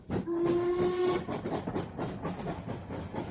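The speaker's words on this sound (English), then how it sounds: "I travelled by the boat train" Steam whistle of a boat train sounds loud and close as a steady tone for about a second, over a continuous hiss of steam and the rhythmic chuff of the train carrying on beneath.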